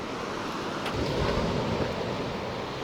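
Black Sea surf on a quiet, empty beach near Odesa, a brief broadband wash of waves mixed with wind buffeting the microphone, fairly soft and steady.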